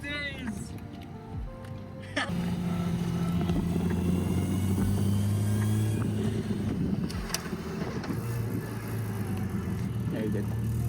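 Nissan Skyline R34 with a converted manual gearbox, engine droning loud and steady as it drifts, sustained tyre and exhaust noise for most of the run after a quieter start, with shouting voices over it.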